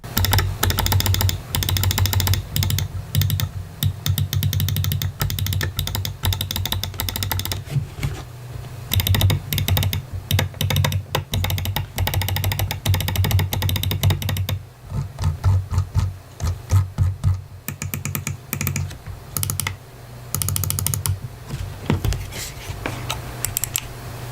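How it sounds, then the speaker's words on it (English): Buttons on a SteelSeries Rival 600 gaming mouse click over and over, close and crisp, in rapid irregular bursts with short pauses, no voices. "let's do some click therapy so you can get an idea of how the buttons on this mouse sound"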